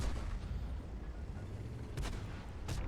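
A tank cannon fires in World of Tanks, two short distant-sounding blasts over a low rumbling battlefield background.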